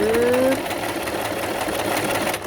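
JUKI HZL-12Z tabletop sewing machine stitching under foot-pedal control, a loud, steady, fast mechanical whir heard close up after a brief rising start.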